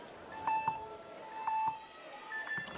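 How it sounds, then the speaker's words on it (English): Three short electronic starting-buzzer beeps at a speed climbing final in Chamonix sound about a second apart, each a bright double pulse, clear and prominent over a quiet, hushed background. "as we wait for the starting buzzers"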